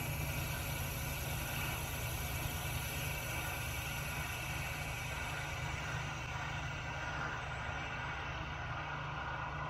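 A metal lathe runs in second gear, facing off a workpiece in a shop. A steady, faint mechanical hum and drone continues without a break, with no voices.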